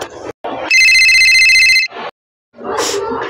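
A telephone bell rings once in a long, loud burst after a number is dialed, with short bursts of other sound before and after it.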